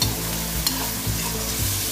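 Sabudana khichdi with tomato, tossed and stirred in a hot pan, sizzles steadily with soft scraping stirs throughout, no voices.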